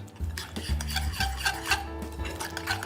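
Salt and cracked black pepper are stirred together in a bowl for seasoning rump steak on rosti, making close, continuous scraping and clinking sounds.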